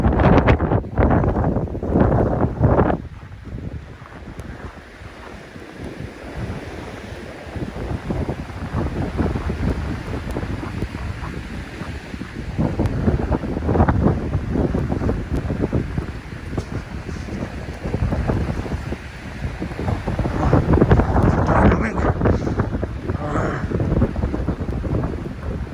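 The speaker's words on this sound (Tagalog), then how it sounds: "Maririnig yung hampas ng hangin nyo." Strong blizzard wind gusts roar and buffet the microphone continuously, rising and falling in loud surges during a snowfall with no talk.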